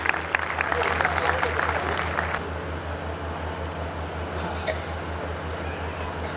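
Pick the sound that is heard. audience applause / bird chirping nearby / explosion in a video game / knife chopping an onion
audience applause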